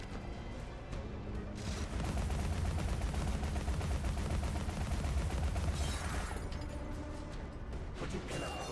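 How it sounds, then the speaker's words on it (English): Gunfire in the video game Alice: Madness Returns, a dense rapid rattle of shots running steadily through the whole stretch, fairly quiet in the mix over a low rumble. "Come on, let me shoot you."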